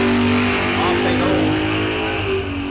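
Drag cars leaving the line side by side, a Chevrolet in the left lane against a Mustang at a bracket race, loud and continuous engine roar with a commentator talking over it throughout.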